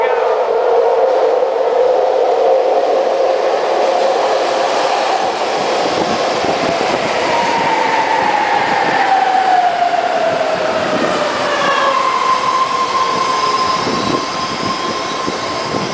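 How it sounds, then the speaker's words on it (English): A Dublin/Pleasanton commuter train pulls into a station, loud and close, with a steady rumble and rising and falling squealing brake tones sliding over several seconds. "Here comes my train right now."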